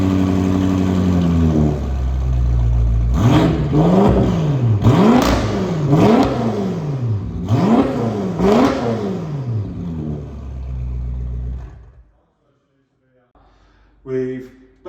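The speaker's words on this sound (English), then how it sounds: "we have the full Akrapovic race exhaust system." A BMW M5 F10 fitted with a full Akrapovic race exhaust idles loud and close, then blips through a rapid series of sharp revs, five or six swells rising and falling in quick rhythm, before settling and cutting to near silence.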